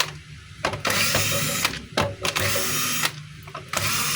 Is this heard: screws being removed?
yes